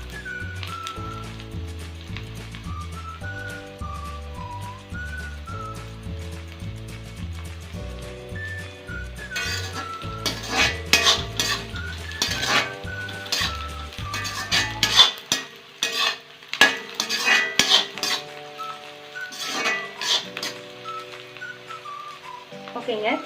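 An onion-spice mixture for Tamil fish curry (meen kulambu) is sautéed in a pan, with close clattering ladle scrapes and knocks in the second half, set against background music with a whistled tune.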